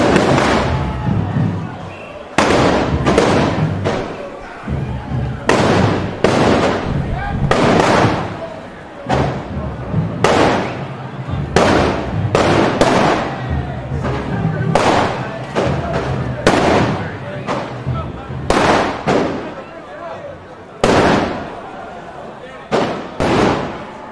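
Fireworks and firecrackers burst at Lewes Bonfire night 2023 in a long, irregular run of loud, sharp bangs and booming thuds, some in quick clusters, with people talking amid the crowd noise.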